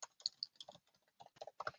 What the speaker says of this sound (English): I'm going to start by just typing in a couple of details about what the system should know about the type of community I'm looking to build